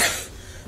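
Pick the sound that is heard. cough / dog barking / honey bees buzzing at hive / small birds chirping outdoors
cough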